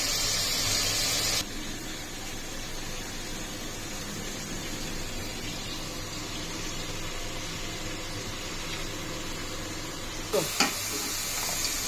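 Masala for chicken korma fries in a pot with a loud hiss that drops suddenly to a low, steady sizzle. Soft stirring scrapes run under it, and the hiss flares again near the end.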